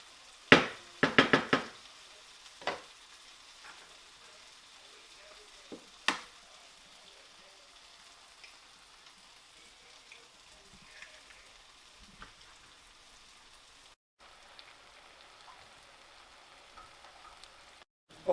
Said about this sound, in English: So I'm going to cook about 8 eggs